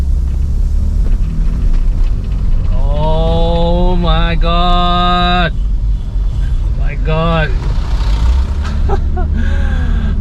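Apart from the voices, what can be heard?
BMW 628 CSi engine running while driving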